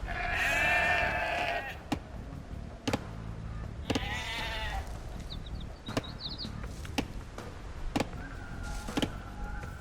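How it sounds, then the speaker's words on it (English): Sheep in the Age of Empires 2 video game bleat in short, close calls, mixed with sharp clicks and brief interface chimes from the game. No one speaks. "You've found some sheep."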